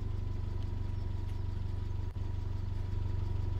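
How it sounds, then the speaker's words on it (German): A vehicle engine idles in Farming Simulator 17 after getting stuck deep in the ground, a constant low, throbbing hum that runs steadily throughout with one brief dip. "Oder Motor ist noch an."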